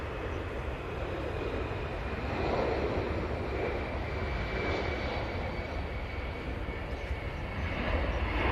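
Etihad Boeing 777 lining up on runway 05 left at Manchester Airport, a steady broad jet engine roar heard from a distance that holds nearly constant throughout.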